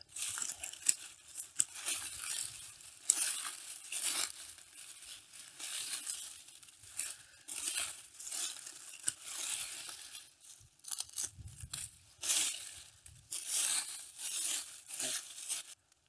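Dead hellebore foliage being trimmed back by hand, a close series of dry tearing, crunching and crinkling snips and rustles in irregular bursts, with short pauses between cuts and no talk.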